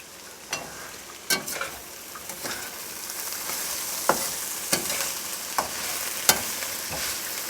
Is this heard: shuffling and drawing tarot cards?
no